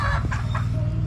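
Unvaccinated backyard chickens cluck close by as they are fed, with a few short, overlapping clucks over a steady low rumble of background noise.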